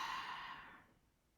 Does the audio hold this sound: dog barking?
no